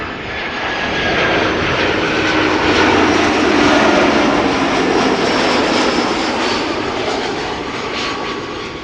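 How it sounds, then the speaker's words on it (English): Vueling Airbus A320 jet arriving at Amsterdam Schiphol from Valencia, a loud sustained engine roar with whining tones swelling near the middle and easing slightly toward the end. "This is Vueling flight 8353, A320 arriving from Valencia."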